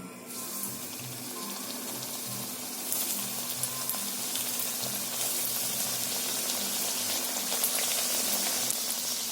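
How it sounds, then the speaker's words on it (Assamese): Momos deep-fry in hot oil in a wok, giving a continuous sizzling hiss that swells louder after a few seconds over a faint low hum. "প্ৰথমে আমি ম'ম'খিনি ফ্ৰাই কৰি ল'ম।"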